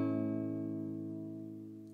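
A single major chord strummed once on guitar, ringing out steadily and slowly fading over two seconds, close and fairly soft with no talking.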